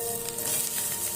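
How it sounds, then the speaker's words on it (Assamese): Onions dropped into hot mustard oil for matar paneer, a brief close burst of loud sizzling and hissing with no voices. "এয়া চাওক আমাৰ তেলখিনি গৰম হৈছে। এতিয়া ইয়াত মই পিঁয়াজ দিছোঁ।"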